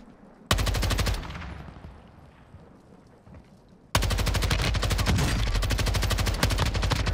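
Loud, rapid automatic gunfire from the video game Warzone comes in two sustained bursts, the first short and the second long, separated by a quieter stretch of lingering game ambience.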